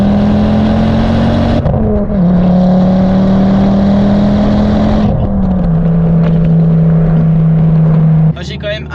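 A Ford Focus RS mk2 pulls onto a motorway in third gear, its engine droning loud and close from inside the cabin, with the pitch dropping briefly at each lift-off before climbing again.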